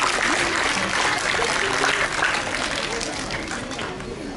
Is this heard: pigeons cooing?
no